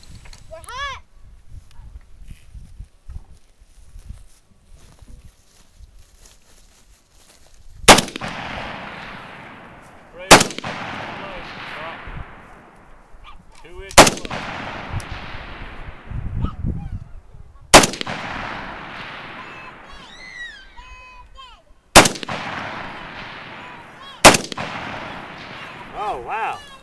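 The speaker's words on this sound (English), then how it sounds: "Your last two shots, I didn't see where it hit it." Rifle shots on an outdoor shooting safari, six loud sharp cracks spaced a few seconds apart, each followed by a decaying echo, with people talking quietly in between.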